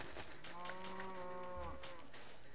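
Cows mooing in the video game Minecraft, a few drawn-out low moos overlapping one another, fairly close and steady against a constant background hum.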